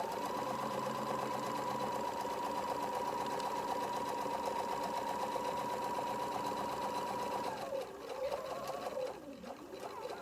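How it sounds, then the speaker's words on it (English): A sewing machine backstitches and then runs a seam on a ribbed cuff at stitch length 3.0, a steady close motor hum with rapid needle rhythm, ending in a few short stops and restarts. "I am backstitching in the beginning and proceed to sew to the edge of my seam"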